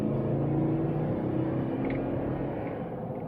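A 2014 Toyota Sequoia accelerates hard through traffic, a steady, close engine rumble and road roar that holds loud and even throughout, easing slightly toward the end, with no talking.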